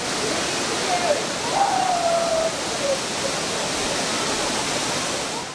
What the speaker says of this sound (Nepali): भेडेटार गाउँ विकास समिति वार्ड नम्बर 6 को नमस्ते झरना अर्को आकर्षण केन्द्र बन्दै